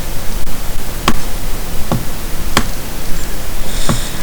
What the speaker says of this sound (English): my TV started up by itself. So the black and white noise.